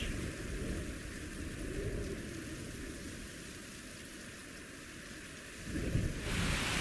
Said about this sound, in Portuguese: E então a chuva começa a cair sobre a savana africana como um véu mágico